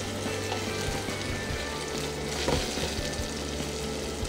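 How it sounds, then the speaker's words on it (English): Tomatoes simmering in olive oil in a pan, a steady close sizzle and bubbling crackle with a faint stir partway through. "leave them to simmer away in the olive oil until they've all burst and all the juices have come out of them"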